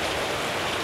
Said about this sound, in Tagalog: Grabe ang ulan na yan, no?